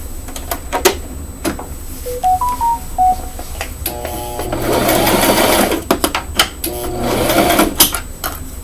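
A sewing machine stitches a pink frock in loud, close whirring runs broken by sharp clicks and knocks, and a short phone-like electronic tone melody chimes partway through.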